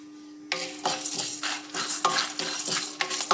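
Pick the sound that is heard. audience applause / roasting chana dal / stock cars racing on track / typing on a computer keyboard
roasting chana dal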